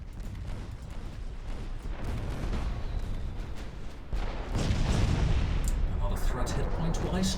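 In the naval game Ultimate Admiral Dreadnoughts, a warship's secondary guns fire as dense, overlapping booms and rumbling blasts. They run continuously and loudly, swell louder partway through, and blend with a talking voice.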